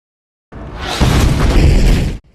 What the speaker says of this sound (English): So what makes an explosion a good explosion?